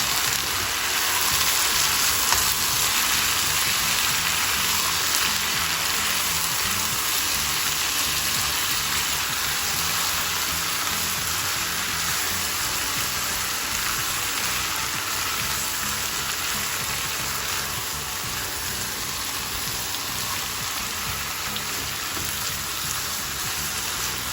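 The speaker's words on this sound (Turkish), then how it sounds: "Güzelce kızaran etimizin içine şimdi domates, biber ve reyhanımızı ilave ediyoruz." Meat frying in a pan with tomato, pepper and basil for a stuffed-eggplant dish gives a steady, dense sizzle that holds evenly, close up, with no talking.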